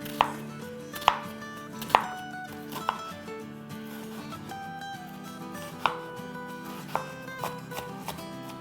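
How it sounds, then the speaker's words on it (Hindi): Onions chopped with a knife on a board for keema, a series of sharp separate knocks spaced about a second apart, close and crisp against a quiet kitchen background with no talking. "पहले हम प्याज काट लेते हैं और वो भी हम ऑमलेट कट काटेंगे।"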